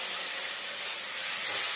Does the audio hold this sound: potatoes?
yes